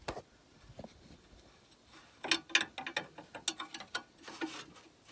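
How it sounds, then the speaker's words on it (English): A wrench ratcheting and clicking on a bolt of the front sway bar of an R56 Mini Cooper S, in irregular bursts of close metallic ticks and clatter with no talking. "I'm just going to have to put the wrench on the bolt"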